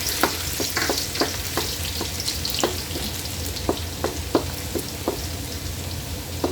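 Chicken gizzards sautéing with garlic for bupis, a steady close sizzle of frying broken by a dozen or so sharp clicks of a utensil stirring against the pan.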